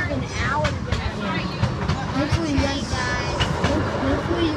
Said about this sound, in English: we're on the train, finally